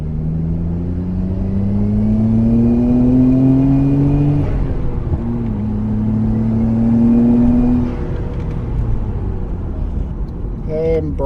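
A 1999 Nissan Skyline R34 GTR V-Spec N1 accelerates from inside the cabin, engine pitch climbing steadily through two pulls with a gear change between, loud and near, with someone speaking briefly near the end.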